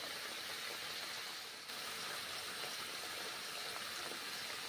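Water splashes into spices frying in a pan while raw banana curry is cooked, giving a steady, loud sizzle and hiss that runs unbroken throughout.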